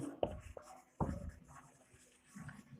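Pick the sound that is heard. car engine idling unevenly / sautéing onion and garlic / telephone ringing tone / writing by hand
writing by hand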